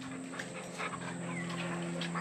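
A neighbor's dog waits at a garden gate in Puerto Rico, panting and whimpering steadily at close range over a constant background hum, with no clear separate barks.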